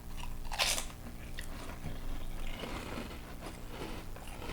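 Someone bites into a thick Korean potato chip with a sharp close crunch, then keeps chewing with softer crunching and scraping sounds.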